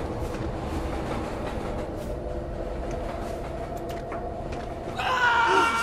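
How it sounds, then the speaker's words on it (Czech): A train passes in the video game The Land of Pain, a steady loud rumbling roll with rhythmic rail clatter, ending in a rising metallic squeal and hiss. "Jede vlak další."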